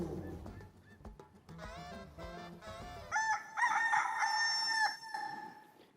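A rooster crows loudly and nearby in one long drawn-out call, preceded by softer clucking and fowl noises, with no talking over it.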